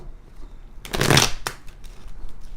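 A single loud riffle of tarot cards, close and crisp, followed by a few softer taps as the deck settles, with no voice.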